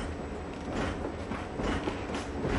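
A train moving in the video game Valkyria Chronicles, heard as a steady rumbling rolling noise with faint rhythmic rail clatter, continuous and fairly loud throughout with no talk.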